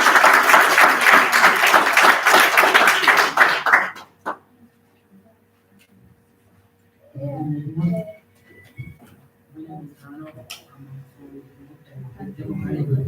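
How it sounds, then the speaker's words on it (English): An indoor audience at a Congolese community gathering in Ireland bursts into dense, loud applause for about four seconds, then it stops abruptly, leaving near-silence followed by scattered speech. "Arnaud, can you give him a round of applause, please?"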